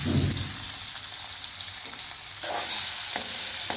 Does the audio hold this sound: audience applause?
no